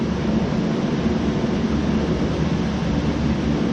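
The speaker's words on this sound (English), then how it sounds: "I'm sorry about my fan, but it's too hot in here to me." An electric fan runs close by in a hot room, a steady, loud broadband whoosh with a low hum that never changes across the whole stretch.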